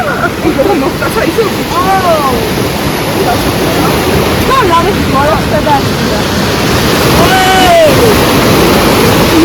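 A river near Gudamakari flows steadily with a loud, constant rush close by, and voices talk over the water.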